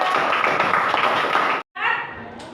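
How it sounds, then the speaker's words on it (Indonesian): A class of students in an Indonesian school lesson claps together in a loud, dense burst of rapid hand claps that cuts off abruptly, then resumes more softly. "Tepuk tangan."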